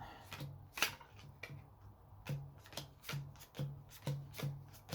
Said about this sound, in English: But no harm in making sure the deck's well shuffled